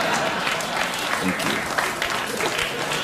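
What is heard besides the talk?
audience applause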